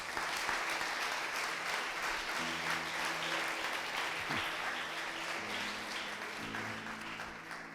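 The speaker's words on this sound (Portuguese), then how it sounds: "Pode aplaudir, depois eu termino." A church congregation applauds during a Portuguese-language sermon, dense sustained clapping filling the room while a low sustained tone sounds beneath it, gradually easing toward the end.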